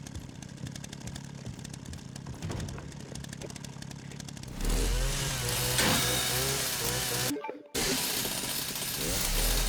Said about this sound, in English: Piece of shit chainsaw.